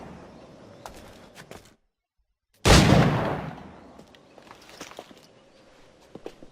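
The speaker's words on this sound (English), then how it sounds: "Press F to shoot the highlighted target with a pistol." Pistol fire in the video game Assassin's Creed 4: after a brief dead silence, one loud, sharp shot bursts out and decays, followed by scattered light clicks and footstep-like taps, with no voices.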